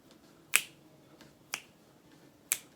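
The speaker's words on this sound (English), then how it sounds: "I'm definitely gonna snap. I like the snapping sound more." Three crisp finger snaps about a second apart, close to a microphone, each a sharp bright crack with a faint softer tap between them.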